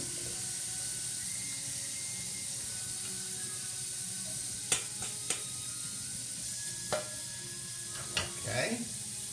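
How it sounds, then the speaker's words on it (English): Potatoes sauté in a pan over a gas flame, giving a steady low sizzle with scattered scraping clicks of a utensil turning them. "now it's a time we saute the potato"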